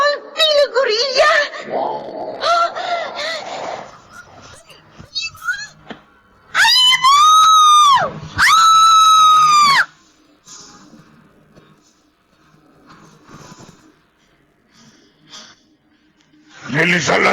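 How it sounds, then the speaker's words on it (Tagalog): Two long, loud screams ring out back to back in a Filipino horror radio drama, each shrill and sustained for about a second or more, set between stretches of narration and eerie effects. "Sa gabi yun, doon nagmula narinig natin sigaw."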